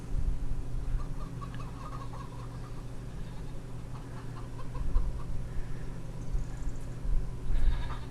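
Chickens cluck on a homestead, scattered soft clucks and calls over a steady low hum, fairly close and with no talking.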